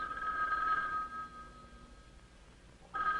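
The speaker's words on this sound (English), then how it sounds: "Now the phone rings." A telephone on a farm interphone system rings with a loud electronic tone, one long burst, a pause, then the ring starting again.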